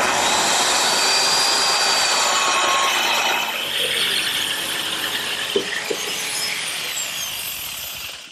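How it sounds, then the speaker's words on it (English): A circular saw and then a jigsaw trim cedar siding in a workshop: a loud, steady whining cut runs for several seconds, then shifts to a rougher buzzing tone with a couple of small knocks before it winds down. "I'll trim it with a circular saw and a jigsaw."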